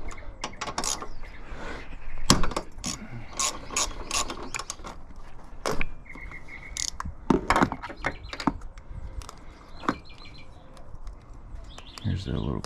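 A ratchet clicks in quick bursts while loosening a tight bolt on a coilover, sharp close metallic ticks in uneven runs with pauses between strokes.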